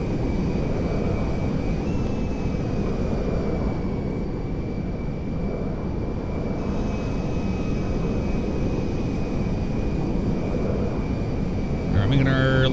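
A Phenom 100 jet in GTA 5 drones steadily in flight, a constant broadband engine roar with a thin whine on top, lasting throughout with a brief click near the end.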